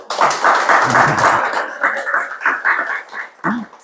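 A church congregation claps together during a Sunday worship service, dense broadband clapping filling most of the stretch, then thinning into scattered claps toward the end.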